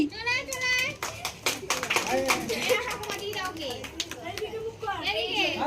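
Scattered hand claps greet a girl receiving a prize at a Saraswati Puja prize-giving ceremony, sharp and uneven under constant children's chatter and talk.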